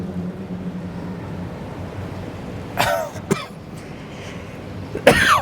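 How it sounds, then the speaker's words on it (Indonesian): A few sharp coughs from an audience at an Islamic sermon break out over a quiet, hollow room tone, one pair in the middle and another near the end. "Maaf, batuk hadirin."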